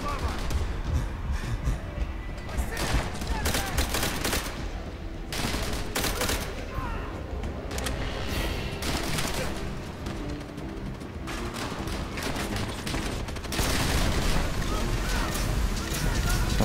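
Gunfire in the Call of Duty World at War video game: sustained bursts of rifle and machine-gun fire with dense, overlapping shots, loud throughout, with some voices mixed in.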